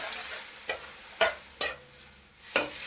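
Sweet vermicelli stirred in a pot with milk and sugar, a spoon scraping in four distinct strokes over a steady background hiss, fairly quiet and with no voices.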